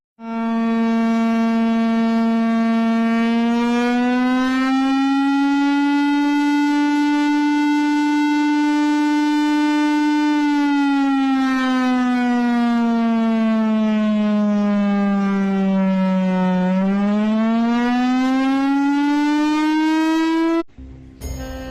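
A civil defense air-raid siren sounds one long, loud, sustained tone for about twenty seconds, its pitch rising and falling slowly before it cuts off abruptly, with no talking.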